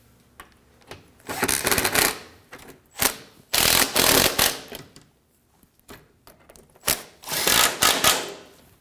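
Close, rapid clicking bursts of a ratchet wrench snugging down bolts on a 2009-2014 Ford F-150 3.5L V6, in several short spurts separated by pauses.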